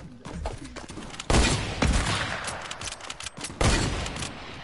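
Gunfire in the Fortnite video game: a quick fusillade of several sharp, loud shots in irregular bursts, close and punchy, with no talk over it.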